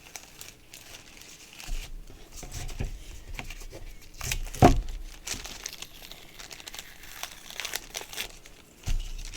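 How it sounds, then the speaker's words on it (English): Tape is peeled carefully off carbon paper in a pumpkin-glow craft project: soft, close crinkling and rustling with a sharper tearing crackle partway through, then a few scattered crumples. "Take the tape off the carbon carefully."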